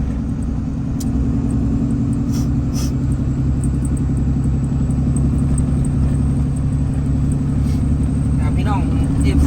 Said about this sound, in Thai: เสียงเครื่องรถมันคือดังแปลกๆดังตั้งแต่มื่อแรกที่ซื้อไปแล้วครับ